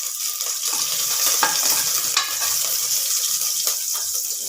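Curry leaves sizzle and crackle in hot oil for a Karnataka-style sambar, a loud, bright frying hiss with a few sharp pops and stirring sounds over several seconds.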